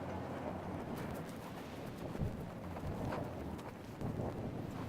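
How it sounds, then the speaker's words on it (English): Strong wind gusts outdoors during a site tour buffet the microphone, making a steady, loud, rumbling roar with brief surges; no one speaks. "it's so windy"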